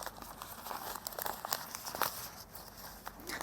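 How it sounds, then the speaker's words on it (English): Oil paper packaging wrapped around a new control valve assembly being opened, a soft continuous crinkling and rustling with small crackles, close and fairly quiet with no talking. "I can open the oil paper"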